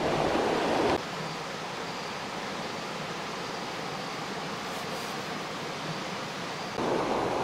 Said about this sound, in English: A whole river that just comes flowing up out of the ground.